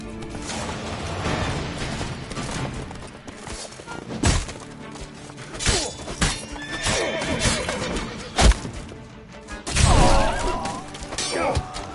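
Geralt's horse Roach in The Witcher 3, galloping hooves thudding alongside repeated neighs and whinnies, mixed with crashes and scattered impact sounds, loud and close with no speech.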